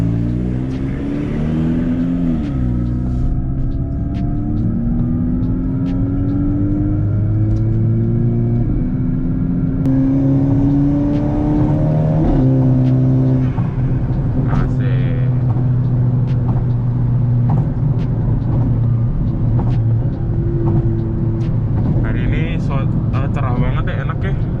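A modified VW Golf GTI engine hums and revs while driving on a sunny day, its pitch climbing and dropping through gear changes beneath someone talking.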